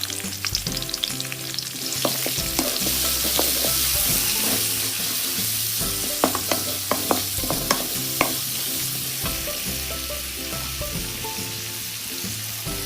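Spices, onion and curry leaves sizzling and crackling in hot oil for mango rice while a spoon stirs and scrapes the pan, steady frying with frequent clinks.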